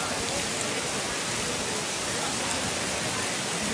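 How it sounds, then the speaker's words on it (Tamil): A waterfall at an ancient Indian stone site in the rain, a steady broadband rushing roar that stays constant throughout, with no other sounds breaking through. "பாருங்க அந்த ஃபால்ஸ் பாருங்க."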